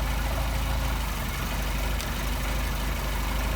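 A Mercedes 190SL engine with a Solex carburetor idles steadily and close by, giving a continuous low rumble with no change in pace and no voices over it.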